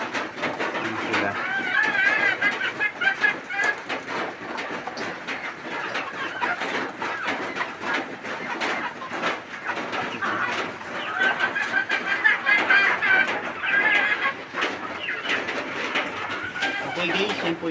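Pet chickens at feeding time cluck and murmur near and far in a steady chorus of soft calls, with occasional brighter chirps and a person's voice speaking over them.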